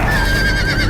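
Horse neighing in the Game of Thrones Telltale video game, a sustained whinny running through the whole second, loud and close over a dense rumbling game soundtrack.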